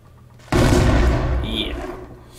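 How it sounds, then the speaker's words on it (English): An explosion sound effect fires as a player walks into a game zone: a sudden loud boom that hits hard and rumbles out over about two seconds. "now it should make an explosion sound."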